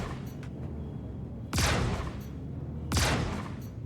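Ship-mounted shotguns fire in the space combat game Star Citizen: two loud, sharp blasts about a second and a half apart, each with a bright cracking burst and quick decay over a steady low engine hum.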